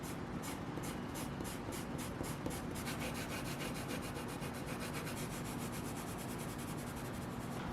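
Colored pencil shades a shadow color broadly across paper in quick, steady back-and-forth strokes, a close and faint scratchy rubbing heard alone.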